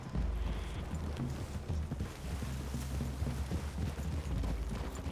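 Horse hooves clip-clop steadily through Red Dead Redemption 2, a continuous rhythmic thudding of several horses walking close by, with faint creaks of tack and a low rumble of game ambience underneath.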